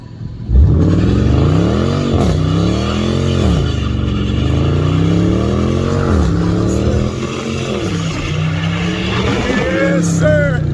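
Porsche GT2 RS at a car meet roars close and loud, revving hard with rising and falling engine pitch through several gear pulls as it accelerates away, the sound dipping slightly toward the end.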